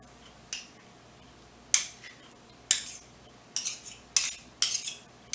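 A spoon stirs chicken salad in a bowl, producing several sharp clinks and scrapes in irregular bursts that grow more frequent toward the end, close and fairly loud over a quiet background.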